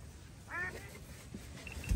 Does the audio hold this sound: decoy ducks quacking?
yes